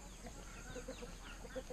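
Chickens at a poor rural home in Vietnam cluck faintly in the distance, a few short soft calls over quiet background.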